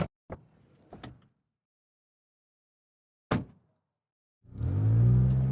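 A van's sliding door opens as someone gets out in a rainy city, giving a few sharp clunks and a latch thud with gaps of silence, followed by an engine starting to rumble.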